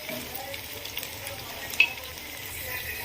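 Chopped tomatoes sauté with fried onions in a pan for a potato curry, giving a steady close sizzle with one brief clink partway through and no voices.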